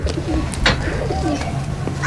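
Sialkoti pigeons coo close by in a loft, a soft, continuous layering of low throaty coos from several birds, with a faint chirp or wing flutter among them.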